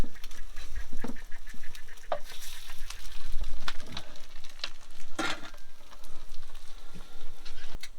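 Food sizzles and spits steadily in a pan at a creek campsite, with clattering knocks of utensils as pieces are flipped and a brief honk-like squeak partway through.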